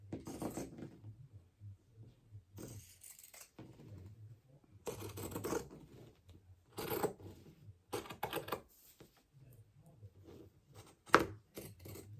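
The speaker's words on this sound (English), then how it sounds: "I'm going to take my pinking shears and I'm just going to trim my seam" Pinking shears trimming a fabric seam on pajama pants being sewn, a series of soft, crisp snipping cuts in short clusters separated by quiet pauses, close and faint.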